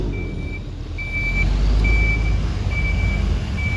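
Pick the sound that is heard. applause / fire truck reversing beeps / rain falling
fire truck reversing beeps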